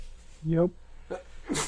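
A person sneezes sharply once, a loud burst with a short vocal lead-in, followed by a softer catch of breath and another breathy burst. A brief spoken word is heard just before.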